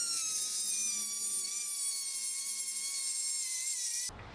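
A power cutting tool grinds a slot into a headless bolt in the engine bay of an E34 BMW being prepped for an S52 swap, a steady high whine lasting about four seconds before stopping abruptly.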